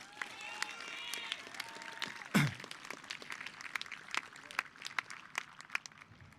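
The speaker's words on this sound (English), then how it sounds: "please join me in giving ourselves a nice big round of applause" Applause from a crowd at the 2021 Montville Township High School graduation ceremony, light scattered clapping with a brief louder burst, fairly distant and thin.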